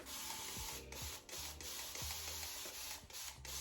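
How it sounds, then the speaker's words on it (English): A spray bottle hisses in steady, repeated pumps of water mist onto hair, close and continuous, with rhythmic clicks of the trigger and no talking. "We're gonna go to the other side and spray."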